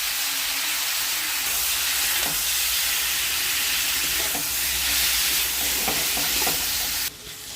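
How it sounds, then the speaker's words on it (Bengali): Onion and capsicum fry lightly in a pan with a steady soft sizzle, a few scraping stirs ticking through it, and a brief louder clatter near the end. "এবার এই পেঁয়াজ আর ক্যাপসিকাম একটু ভেজে নেব, খুব কড়া না, হালকা"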